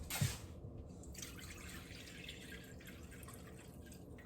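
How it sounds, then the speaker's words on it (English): Four cups of water poured into a glass in a kitchen: a faint, continuous splashing trickle with a brief thud at the start, quiet and close. "4 cups of water, and I'm going to dump it into the glass."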